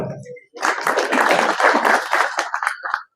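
A burst of clapping from a group at a preparatory meeting for the Avani temple fair, dense and steady for a few seconds before tapering off, heard close after a brief voice.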